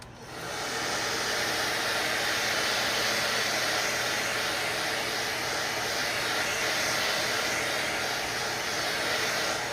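A steady, loud rush of blown air from a small hobby heat gun, running continuously for the whole stretch with no pauses.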